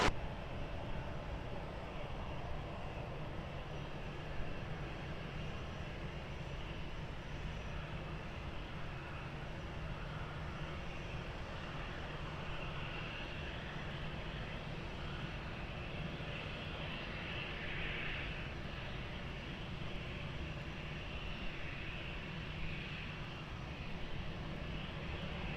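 A jet airliner landing at Lisbon Airport, its steady broadband engine roar holding at a constant distance throughout, with no talk.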